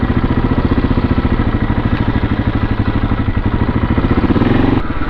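A 2002 KTM 640 single-cylinder enduro motorcycle engine thumps in a fast, even rhythm close by, loud and steady, with a slight change in pitch near the end.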